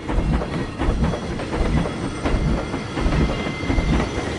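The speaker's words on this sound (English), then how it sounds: "Crow reacts to the train." A train rumbles past in Red Dead Redemption 2, a loud, steady clatter of wheels and rail noise that fills the whole moment without any talk.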